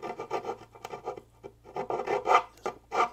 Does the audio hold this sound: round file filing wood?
yes